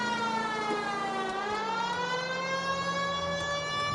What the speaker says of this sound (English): those sirens are loud